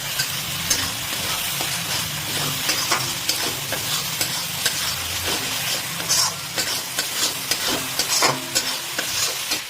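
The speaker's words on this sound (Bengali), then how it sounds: "এই আদা রসুন দিয়ে কিন্তু আমাদের 5 মিনিটের মতন দেখুন ভাজা হয়ে গেছে" Ginger and garlic fry for a Bengali chicken kasa, a steady loud sizzle over a gas flame with constant stirring scrapes and occasional utensil clinks against the pan, with no one talking.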